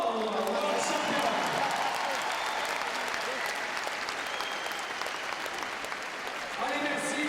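Spectators at a women's bouldering world championship in Paris applaud Austrian world champion climber Anna Stöhr, with dense, sustained clapping from a large crowd filling the whole stretch, with faint voices mixed in.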